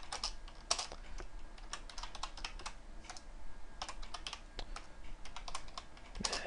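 Fingers clatter across a computer keyboard, close-up, in bursts of rapid keystrokes with short pauses, a steady run of sharp clicks over a low room hum.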